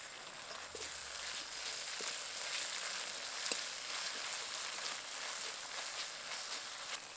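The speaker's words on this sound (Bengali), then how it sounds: "এবার এর মধ্যে দিয়ে দেবো জিরে, সর্ষে আর কাঁচা লঙ্কা বাটা।" Cumin, mustard and green chili paste frying in a pan alongside ginger-garlic paste, a soft continuous sizzle with a few faint clicks, quiet and steady throughout.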